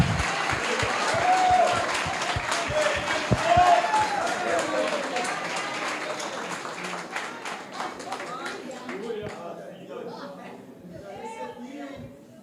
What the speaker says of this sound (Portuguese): Vamos dar um lindo aplauso, vamos dar um lindo aplauso.